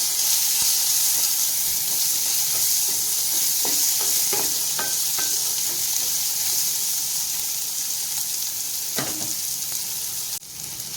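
Chopped medium onion frying in a pan for a sword bean stir-fry, with steady loud sizzling and intermittent scraping stir strokes throughout.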